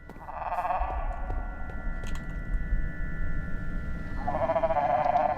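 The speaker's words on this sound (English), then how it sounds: "That sounds like a sheep." Two drawn-out synthetic sheep bleats, one near the start and one at the end, over a low rumbling background hum.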